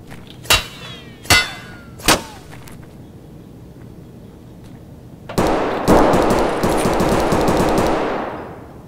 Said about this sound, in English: That's a player firing that erratic.